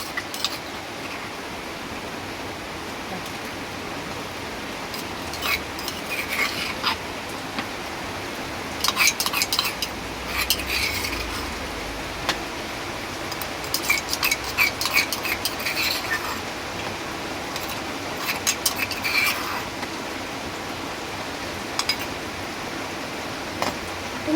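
Chicken gets stirred in a cooking pot, with a soft continuous hiss under bursts of metal spoon clinks and scrapes that come and go across the stretch, and no talking.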